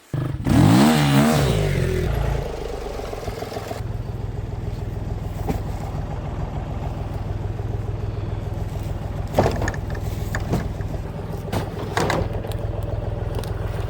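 A motorcycle engine fires up and revs loudly, then settles into a steady running drone with occasional clatter and knocks over about fourteen seconds.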